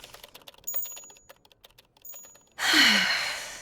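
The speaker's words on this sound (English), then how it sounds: "So I sat myself down at my typewriter and hammered at the keys for all I was worth" Typewriter keys are struck in a rapid, irregular run of sharp clacks with small bell-like pings, close and clear, followed by a whooshing burst at the end.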